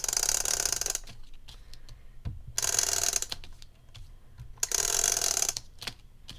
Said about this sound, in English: I'm just going to take my tape runner.